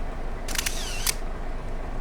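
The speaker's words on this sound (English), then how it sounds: "Let me just take a picture of it on my phone." Phone camera shutter in the farming video game Farming Simulator 22, a quick pair of crisp mechanical clicks close together, followed by a single click a moment later over faint background hum.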